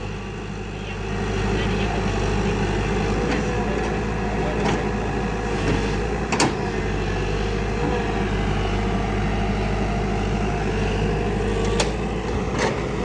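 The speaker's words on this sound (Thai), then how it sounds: "เนี่ยเร่งเครื่องเบาๆครับ" A Thai excavator's diesel engine idles and revs lightly in a steady, continuous drone with faint clicks, heard near and alone.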